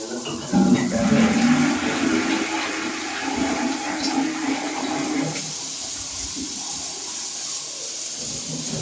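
A toilet flushes with bore water: a loud, close rushing roar for about five seconds, then a quieter steady hiss of refilling water, with no talking.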